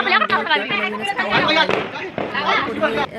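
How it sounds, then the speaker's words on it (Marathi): Diwali firecrackers on Lakshmi Puja night pop and crackle in bursts while people chatter close by, the bangs partly mixed into the voices. "मी खूप सारे फटाके लावले आणि वेगवेगळे फटाके"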